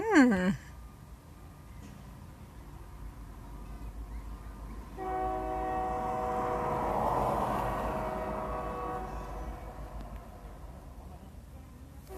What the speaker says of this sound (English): And of course you hear the train.